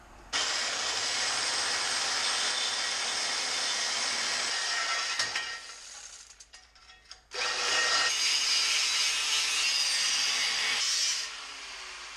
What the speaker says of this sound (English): Probably just going to take a Sawzall, relief cut that.